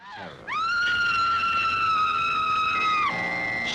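A woman's sustained high-pitched scream from a 1960s horror film trailer rises sharply, holds steady for about two and a half seconds and then breaks off, loud and close, with no speech over it.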